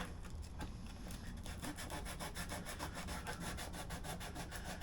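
Scooter plastic is hand-sanded with coarse paper to feather a repair edge, making fast, even back-and-forth rasping strokes, close and continuous, with no talking.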